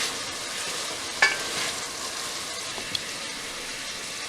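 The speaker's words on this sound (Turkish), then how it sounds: "Etimizi soteledik. Mühürledik daha doğrusu." Meat sautéed and seared in a pan for a stew, giving a soft, steady sizzle with a couple of small pops and clinks, fairly quiet and close, with no talking.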